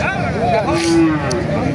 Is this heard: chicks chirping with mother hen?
no